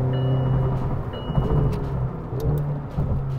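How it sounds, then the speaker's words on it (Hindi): The V8 engine of a 2021 McLaren GT accelerates with a deep, continuous rumble, fairly loud and close, with no talking. "ये V8 का जो आवाज है, जो साउंड है, बड़ा बेहतरीन है"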